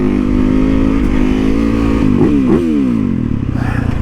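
A 2019 Yamaha YZ450FX supermoto motorcycle roars loud and close, its engine note sweeping downward with a couple of quick blips of revving, then settling into a steady, rough drone.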